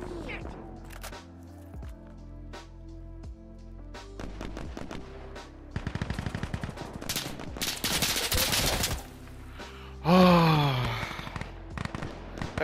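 Gunfire in the video game Insurgency: scattered single shots and rapid automatic bursts with sharp cracks, some near and loud, others farther off, with a blast and whooshing debris near the end, under occasional voice chatter.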